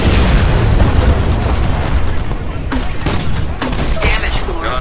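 A 40mm cannon fires in a video game amid dense, continuous booming gunfire and explosions that fill the whole stretch, with voices talking over the battle.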